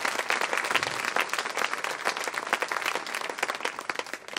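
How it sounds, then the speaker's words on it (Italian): Audience applause for friars at a Catholic catechesis community day, a dense, steady burst of many hands clapping filling the room without a break. "Un applauso ai nostri frati bellissimi."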